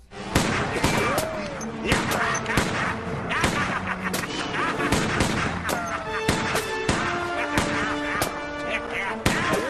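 Rapid gunshots crack again and again in a movie scene from Gingerdead Man, a sharp irregular volley of many shots close up with little pause between them.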